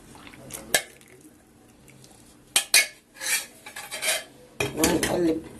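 Starch being stirred into a caramel pudding mixture in a pot: scattered clinks of a utensil against metal, then scraping and swirling stirring sounds with soft liquid noises, quiet and close, with occasional faint speech.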